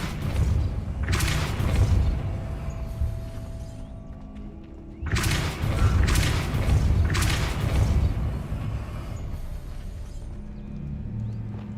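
The Depulso force spell cast in the game Hogwarts Legacy, producing two booming whooshes with rumbling thuds, each followed by a fading low tail over ambient background.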